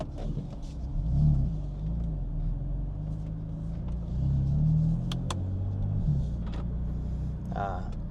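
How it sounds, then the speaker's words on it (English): A BMW M4 Competition F82 fitted with downpipes and intakes and a stage 2 tune cruises along, its engine giving a steady low rumble inside the cabin that swells twice as it pulls, with faint voice-like sounds in places. "let's go ahead and take this thing out for a rip"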